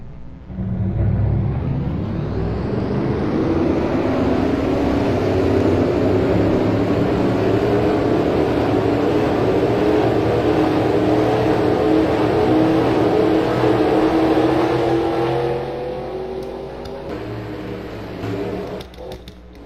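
Race trucks in a stock-car style racing video game at a short oval track rumble together as a steady, loud, dense engine drone that holds for about fifteen seconds before easing slightly, with no talk over it.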